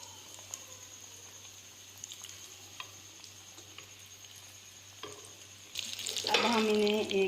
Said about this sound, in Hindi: एक कढ़ाई में हमने ऑयल लिया है, ऑयल हमारा गर्म हो चुका है। अब हम इसे कढ़ाई के अंदर डाल देंगे।